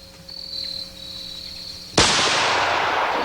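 A single sharp rifle shot from a 30-30 with a 150 grain bullet cracks loudly outdoors and rings out in a decaying tail, preceded by a quiet stretch with insects chirping in the background.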